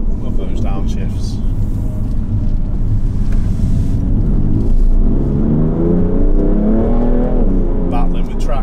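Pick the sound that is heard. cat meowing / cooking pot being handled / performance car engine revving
performance car engine revving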